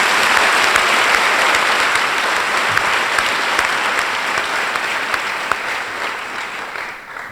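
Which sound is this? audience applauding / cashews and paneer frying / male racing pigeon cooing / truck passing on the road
audience applauding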